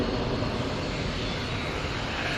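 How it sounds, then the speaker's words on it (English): A KLM Boeing 737 jet taxis at Manchester Airport, a brief, moderately loud, even engine rumble and hiss with no speech. "we're going to have this KLM 737 going on in front of us"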